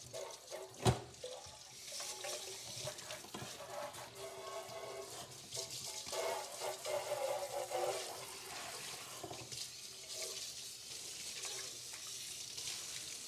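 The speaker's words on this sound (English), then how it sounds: "Want to be careful we don't splash the clean dishes with all this dirty water over here." Faint tap water running into a kitchen sink while dirty dishes are washed, a steady wash of splashing with occasional clinks and a sharp knock near the start, no talking.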